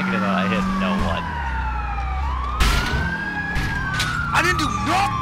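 A police siren wails in GTA IV with rising and falling tones and a short electronic yelp, loud and close over game traffic noise, with brief voices mixed in.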